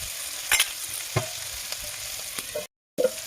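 Meat fries in its released oil in a pan, a continuous close sizzle with a few sharp scrapes and taps of the stirring spoon.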